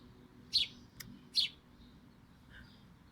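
Sparrows chirping outdoors, two clear bright chirps and a few fainter tweets spaced across a quiet background, with no talk.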